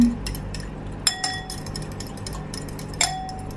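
A spoon clinks against a glass while calamansi juice mixture is stirred, giving a few sharp, bright ringing taps spaced over a few seconds, close and clear over a low steady background hum.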